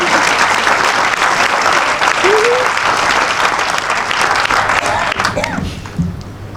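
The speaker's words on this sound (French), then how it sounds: "Ayez l'amabilité, la capacité, la fiabilité, la possibilité, la respectabilité de vous applaudir." Audience applause at a comedy gala in Cannes: a loud, sustained roar of clapping from a large crowd with scattered voices and a brief cheer, tapering off near the end.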